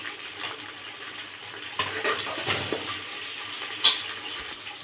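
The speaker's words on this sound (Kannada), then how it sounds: "ಈರುಳ್ಳಿ ಹಾಕಿದ್ಮೇಲೆ ಸ್ವಲ್ಪ ಈರುಳ್ಳಿ ಚೆನ್ನಾಗಿ, ತುಂಬ ಬೇಡ, ಸ್ವಲ್ಪ ಮೀಡಿಯಮಾಗಿ ಫ್ರೈ ಆಗಲಿ" Onions fry in a pan with a soft, steady hiss and gentle scraping, followed by a few louder stirs and clatters near the end. The onions are cooked to medium for a mushroom donne biryani.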